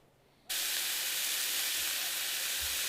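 Pork chops sizzle in a pan at an overlanding campsite, a loud, steady broadband hiss that bursts in suddenly and holds continuously, close by with no talk.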